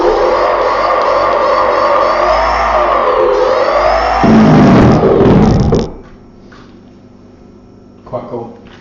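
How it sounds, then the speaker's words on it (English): Electric 50mm hub motors on a slim carbon fibre longboard deck with a VESC controller spin up with a loud rising and falling whine, swelling into a harsher roar before cutting off abruptly, followed by faint quiet handling noises. "just show you the hub motors working"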